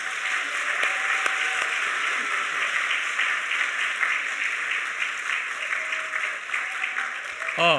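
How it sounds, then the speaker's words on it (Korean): A congregation claps loudly and continuously at a church anniversary service honoring newly ordained deacons, a full, even roar of applause lasting several seconds before a voice cuts in at the very end. "큰 박수로 축복하겠습니다."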